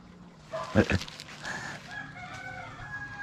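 Five hens nearby give a few short clucking calls, close and fairly soft, with faint background noise.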